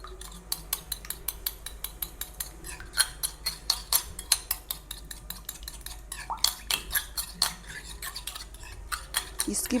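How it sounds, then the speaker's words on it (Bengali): A single egg with a little salt is beaten in a bowl with a utensil, giving a fast run of sharp rhythmic clinking taps close by, steady and brisk throughout. "ডিমটাকে ফাটিয়ে নেব।"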